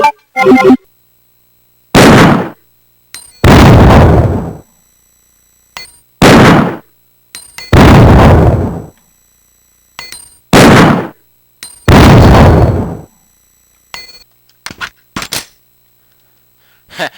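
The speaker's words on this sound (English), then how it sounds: "a high-caliber Magnum pistol. It uses powerful DOT 50 AE rounds by IMI Israel" A high-caliber Magnum pistol fires powerful .50 AE rounds in Resident Evil 2. About seven loud, booming shots come at irregular intervals, each with a long ringing tail, separated by silence and small mechanical clicks.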